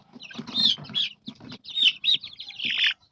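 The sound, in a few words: large-breed chicken, Dumpo Tanaka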